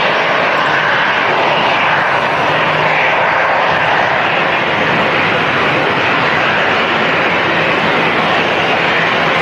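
An EasyJet airliner departing Manchester Airport on a windy day gives a loud, broad jet roar that stays steady and powerful throughout, with no voices.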